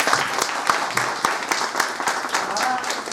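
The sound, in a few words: audience applause for the training resource team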